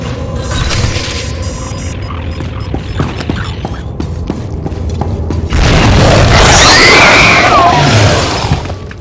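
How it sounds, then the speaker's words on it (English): Loud, rumbling detonations from charges set off in the Star Wars: The Old Republic game. They come with clanking, crashing debris and a sustained burst of louder blasting near the end. "I heard the explosions when you set off the charges."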